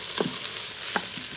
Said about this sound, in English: now I'm going to add in the arborio rice and just stir that for a minute so it coats a little bit